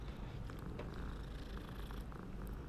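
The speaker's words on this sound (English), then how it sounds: "We could interact with the cats and pet them, basically." A cat in Hogwarts Legacy purrs steadily while being petted, a close, soft, continuous rumbling purr heard alone with no talk.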